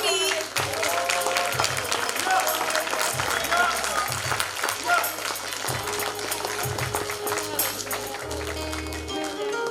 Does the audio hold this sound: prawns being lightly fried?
no